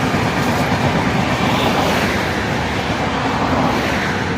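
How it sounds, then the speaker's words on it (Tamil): A train rumbles steadily past at close range, a continuous loud roar with rattling, clattering wheels and no voices. "ட்ரெயின் வருது"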